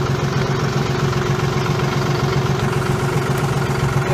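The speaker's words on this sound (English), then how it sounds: "obviously I'm able to get the tractor rolling" John Deere 5065E tractor engine running at a steady idle, a continuous low droning rumble heard up close and alone, without talk.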